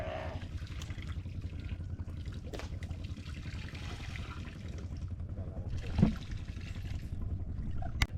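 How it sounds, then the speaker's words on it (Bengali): A boat motor rumbles low and steady alongside splashing, trickling water as the boat reaches a river jetty in the Sundarbans, with a few knocks and distant voices. "নৌকাটা ঘাটে চলে এসছে ওই যে নৌকা"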